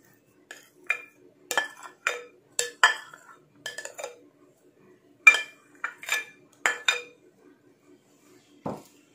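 Grated boiled potatoes go into a bowl, with a spoon clinking and scraping against the dish in a string of sharp, close taps and chinks separated by short pauses, with no voices.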